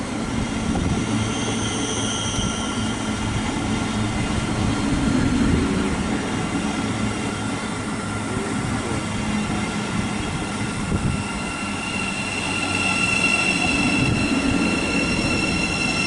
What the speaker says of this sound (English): arriving now is a Thameslink service terminating in from Sutton. 700-049.